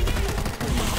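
Rapid gunfire from the zombie shooter World War Z, a dense, continuous burst of shots lasting about a second, loud and close with game noise packed around it.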